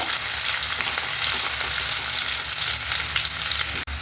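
A small onion fries in about one and a half tablespoons of coconut oil, giving a loud, steady, close sizzle that holds unbroken throughout, then is interrupted by a brief knock near the end.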